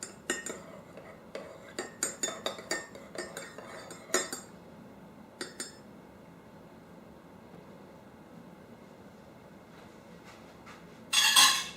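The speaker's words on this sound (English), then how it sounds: "Give it a little stir." A spoon clinks against a cup while stirring turmeric coffee topped with cream and organic cinnamon, giving a quick run of light taps, then a pause and a brief louder clatter at the end.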